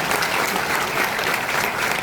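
Applause from an audience at a film premiere, a dense, steady clapping of many hands that fills the short moment at close range.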